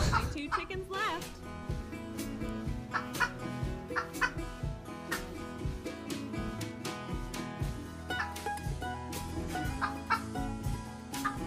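Clucking from chickens in a video game runs throughout, woven into a steady, dense backdrop of music and game noise with regular rhythmic hits.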